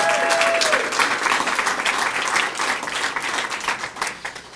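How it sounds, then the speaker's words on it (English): Hockey fans at a team press conference give a loud round of applause, dense clapping close by that runs throughout and eases slightly toward the end. "Round of applause for yourself."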